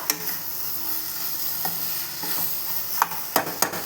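Potato and capsicum curry being stirred in a frying pan, with a steady sizzle throughout and a few louder scraping clacks of the spoon near the end; no voices.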